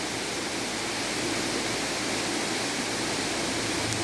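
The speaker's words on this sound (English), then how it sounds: "Well, you hear the waterfall," Waterfall rushing at Blue Basson, a steady, dense broadband roar that stays loud and unchanging throughout, with no voices.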